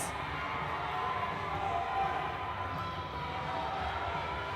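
Roller derby fans cheer and clap in a large venue, a steady, fairly distant roar of crowd noise with scattered shouts and no clear peaks.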